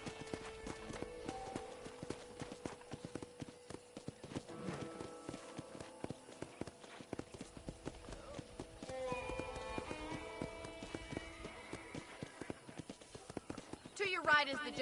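Rhythmic clip-clop of horse hooves galloping in the video game Red Dead Redemption, steady and fairly quiet, with speech and faint game music over it.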